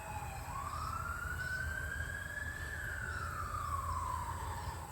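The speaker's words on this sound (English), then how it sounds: "oh, another ambulance, somebody else is in trauma" An ambulance siren on a nearby highway wails in one long rising and falling sweep, distant and faint over a steady bed of traffic rumble, with no one speaking.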